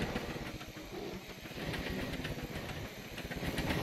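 A vehicle engine in the Scrap Mechanic video game drives along with a steady, rumbling drone and rapid rhythmic chugging. The sound stays close and fairly loud throughout, with no talk over it.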